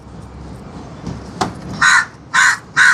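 A crow caws three times in quick succession, loud and close, after a quiet stretch with a faint click.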